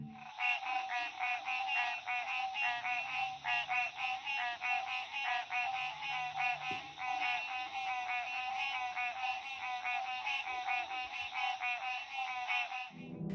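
A dense, continuous chorus of frogs in a swamp at night, a steady rapid pulsing trill that holds loud and unbroken throughout, with no voices.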